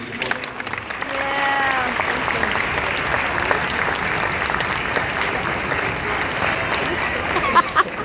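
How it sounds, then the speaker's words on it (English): An audience at an intermediate school's fifth grade spring concert gives a round of applause, a brief voice at the start before full, sustained clapping builds and holds steady in a large room. "how about a round of applause for everything that you do"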